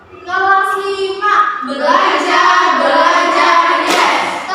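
A fifth-grade class does a counted clapping game, children's voices chanting loudly in unison with hand claps mixed beneath the group speech.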